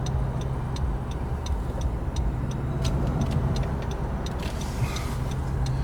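A car driving through Miami, heard from inside as a continuous low engine and road rumble with a faint regular ticking like a turn signal clicking over it.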